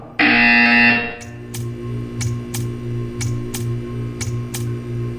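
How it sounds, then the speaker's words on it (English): A loud, harsh electronic buzzer from the video game Portal 2 blares for about a second, followed by a series of sharp, evenly spaced clicks or ticks over a low hum. "You will hear a buzzer."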